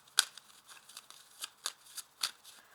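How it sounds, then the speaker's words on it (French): Oracle cards being handled and laid out on a table, a few soft, brisk card flicks and slides, quiet and close, with no talk. "Je vais ajouter un oracle de Béline sur chacune des cartes"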